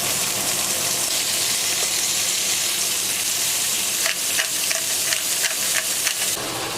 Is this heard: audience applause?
no